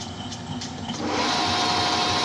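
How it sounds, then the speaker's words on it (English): Steady mechanical whir of a pilot drill biting into metal for a motorcycle wheel spindle, a continuous grinding hiss that grows slightly louder and harsher partway through. "now we can get in and pilot drill that"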